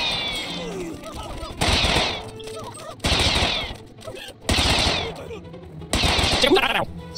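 Gunfire from the quick draw unit in Totally Accurate Battle Simulator, coming as four loud bursts of rapid shots about every 1.5 seconds, with quieter stretches of game ambience between them.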